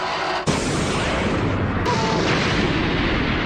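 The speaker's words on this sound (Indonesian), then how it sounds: "Kapten Buggy menembakkan Buggy Dama dan seketika menghancurkan banyak rumah" A cannon blast in One Piece anime strikes houses, a sudden loud boom followed by a long roaring rumble of destruction that fills the rest of the moment.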